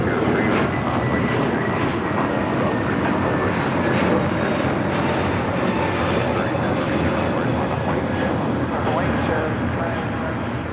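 An Alaska Airlines jet in Kraken special livery takes off at Los Angeles International Airport, a loud, steady engine roar held for the whole stretch with voices talking over it.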